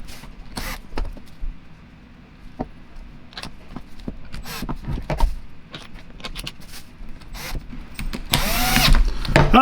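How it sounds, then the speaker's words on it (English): A power screwdriver on its lowest setting drives the body screws of an Ingersoll-Rand 2235TiMax impact wrench in a crosswise pattern. Short separate bursts come amid light tool clatter, ending in a longer, louder whir. "I have my driver here that I have in the lowest power setting, and we just tighten down these screws in a crosswise pattern"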